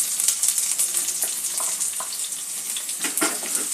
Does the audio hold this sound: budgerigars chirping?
no